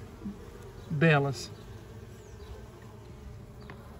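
Uruçu Nordestina stingless bees buzzing at an opened hive nest while a super box is set on top, a brief louder close buzz rising over a faint steady hum, with a short spoken word.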